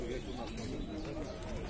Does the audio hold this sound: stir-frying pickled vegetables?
no